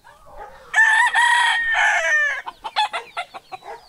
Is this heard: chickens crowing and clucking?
yes